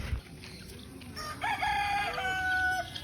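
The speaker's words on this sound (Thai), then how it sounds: "มาดูไก่บ้านครับไก่บ้าน" Chickens calling in a farmyard at Bang Pla Ma Tiger Park in Suphan Buri, Thailand, with a rising crow-like call and clucks over steady background noise, fairly close.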